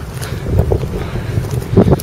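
Gusty wind buffets the microphone outdoors during a nature walk, a low rumbling roar that swells and eases over two seconds, with faint rustling and a couple of louder bursts near the end; no talking.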